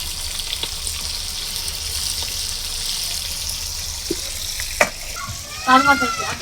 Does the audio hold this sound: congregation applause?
no